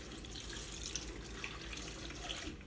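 Broth being poured for sweet potato soup, a steady liquid splashing and trickling stream running throughout, close and moderately quiet with no talking.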